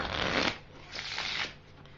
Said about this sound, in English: Give it a couple overhand shuffles.